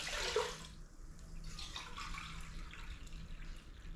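Apple cider vinegar pours into a 2-cup measuring cup, a steady liquid rush that starts loud and settles into a softer continuous trickle.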